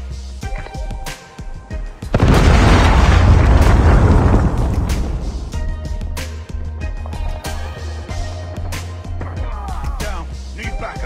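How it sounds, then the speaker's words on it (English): A Predator missile strike in Call of Duty Mobile on the Nuketown map lands as a loud, close, deep boom with a long rumbling tail, set among scattered game sounds and brief clicks before and after. "Predator missile inbound."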